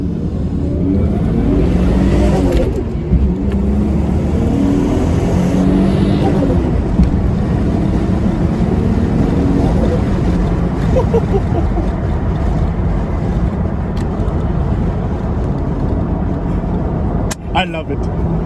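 A Toyota JZX110 sedan accelerates up a highway on-ramp, its engine and road noise a steady loud drone from inside the cabin, with people talking over it and a brief sharp click near the end.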